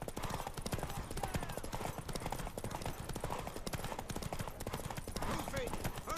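Horse hooves gallop in The Witcher 3 in a fast, continuous clip-clop rhythm, close and steady throughout, with game voices speaking over the hoofbeats.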